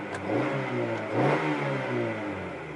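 An Integra's engine revs close up, the pitch climbing and falling in a quick surge before settling back into a rumbling idle.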